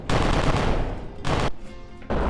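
Guns and missiles firing in Kerbal Space Program, a dense rattling barrage of shots in two long bursts with a brief gap and trailing rumble, loud and continuous with no talking.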